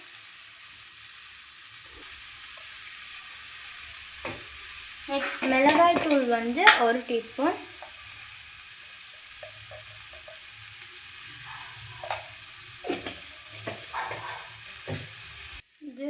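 Onion and tomato sauté with spices in a pan for wheat pasta, giving a soft steady sizzle with some stirring scrapes and a louder burst of frying partway through, while someone talks.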